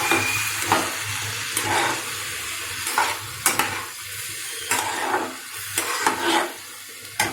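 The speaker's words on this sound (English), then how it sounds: "Mix it very well." A spoon stirs Indrayani rice into a sizzling mixture in a pan for coconut rice, with repeated close scraping strokes in a rough rhythm over a constant frying hiss.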